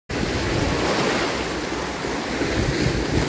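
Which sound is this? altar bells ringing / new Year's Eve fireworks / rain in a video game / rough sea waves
rough sea waves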